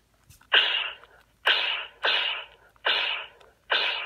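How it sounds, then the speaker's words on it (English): Four sharp, hissing zaps in a steady rhythm, each a bright burst that fades quickly, from a Hasbro Star Wars toy blaster firing repeatedly. "There's a blaster sound."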